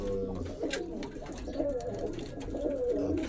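Young Birmingham Roller pigeons on a loft floor, soft overlapping cooing and low murmuring calls close by, steady and quiet throughout.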